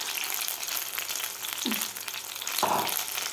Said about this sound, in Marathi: आता हे सुद्धा आपल्याला व्यवस्थित असे गोल्डन कलर होईपर्यंत ही बॅच तळून घ्यायची आहे.